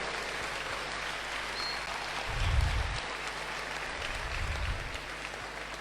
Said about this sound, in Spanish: Un aplauso para el compañero Evo.